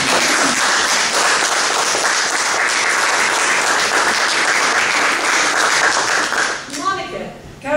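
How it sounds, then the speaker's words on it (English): Sustained, loud applause from an audience at an award ceremony in Amherst, Massachusetts, greeting an honoree's parents and grandparents, steady throughout before tapering off at the end. "A round of applause for them."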